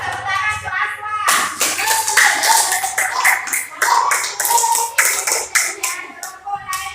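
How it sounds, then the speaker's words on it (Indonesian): A classroom of students claps for a classmate named Aswad after he reads his answer, a burst of close, brisk hand-clapping that runs for several seconds over faint background chatter. "tepuk tangan untuk Aswad"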